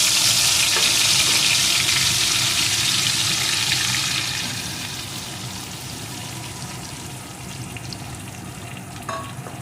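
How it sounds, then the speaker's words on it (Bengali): Marinated fish goes into hot oil with fried nigella seeds and dried chili, setting off a loud, bright sizzle that gradually settles into a softer, steady frying hiss with a faint clink near the end. "কালো জিরে ফোড়নগুলোকে একটু লাল লাল করে ভেজে নিয়ে এর ভিতরে আমি ওই ম্যারিনেট করা মাছগুলোকে দিয়ে দেবো"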